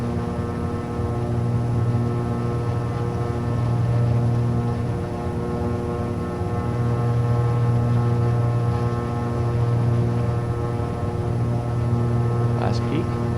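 Left engine run-up of a Beechcraft Baron 58P in Microsoft Flight Simulator, a loud, steady piston drone with a strong humming tone that swells and eases slightly as the throttle settles.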